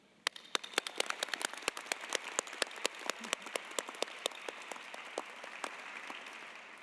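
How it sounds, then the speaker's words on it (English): Audience applause at a postdoctoral graduation ceremony. Sharp individual claps ring out over a thinner clapping bed, fairly distant and quiet, with a few hands standing out clearly. "We'd like to extend a round of applause to all."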